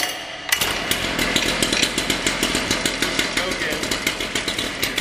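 A gas-powered circular saw starts up and settles into a steady idle, its engine putting out a rapid, even pulse that stays close and loud throughout.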